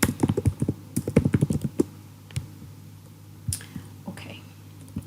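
Typing on a computer keyboard: a quick cluster of close, crisp key taps at the start, then a few scattered single presses after a pause, with a faint low hum underneath.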